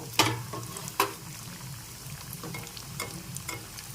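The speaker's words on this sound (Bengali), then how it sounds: "এবার কাটলেটগুলো একটা একটা করে দিয়ে ভেজে নিতে হবে" Chicken cutlets fry in hot oil in a pan, giving a soft, steady sizzle with a few sharp clacks as the pieces are set in and moved.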